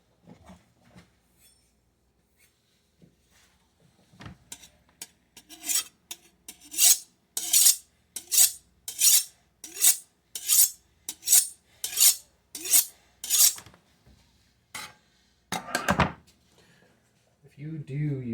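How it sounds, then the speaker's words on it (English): A kitchen knife is drawn across a sharpening stone in about a dozen rhythmic, raspy strokes at close range, with a few scattered handling noises before and after. "If you do use a sharpening stone, make sure you wipe the knife off"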